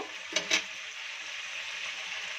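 Chopped vegetables go into a pan of tomatoes and ginger frying in oil for a parshe fish curry: a steady close sizzle, with two short bursts of louder crackle near the start.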